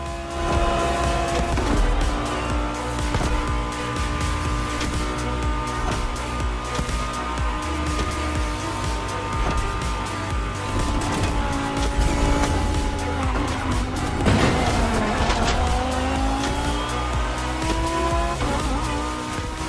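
A Liberty Walk customized Lamborghini Huracan Performante races in The Crew Motorfest. Its engine roars loudly and without a break, with shifting pitch and repeated tire squeals and skids, and no voices.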